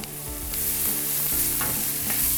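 Onions and vegetables frying in a pan for mini vegetable frittatas, a loud steady sizzle with scraping stir strokes at intervals, close by and with no voices.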